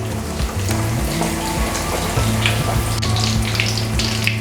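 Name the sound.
food frying in a pan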